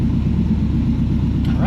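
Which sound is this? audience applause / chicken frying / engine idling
engine idling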